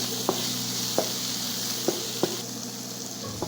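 Green bell peppers fry in a pan for a tomato carrot stew, a steady soft sizzle with a few faint clicks or taps at irregular intervals, close by and with no talking.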